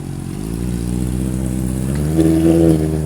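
A nearby motorcycle engine hums loudly, then swells into a deeper rev near the end.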